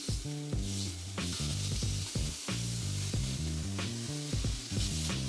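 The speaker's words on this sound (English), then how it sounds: "Nice sizzle." Loud, steady sizzling from marinated Korean LA kalbi beef short ribs frying in an oiled pan, crackling continuously with no speech.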